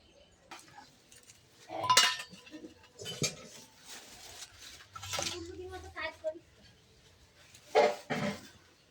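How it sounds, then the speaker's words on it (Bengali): Rice pudding (payesh) stirred in a pot in a small home kitchen for a birthday; a spoon clinks and scrapes against the pot in a few scattered bursts, with children's voices in the background. "পায়েসটাকে একবার নেড়ে দিচ্ছি বন্ধুরা।"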